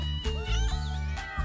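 A cartoon cat meows in an anime scene, with several drawn-out, wavering meows rising and falling over a dense layer of background music.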